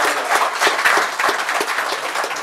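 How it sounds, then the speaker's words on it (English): Audience applause at a health insurance summit, a dense patter of many hands clapping steadily throughout, fairly close and moderately loud with no talk over it. "One big round of applause for us."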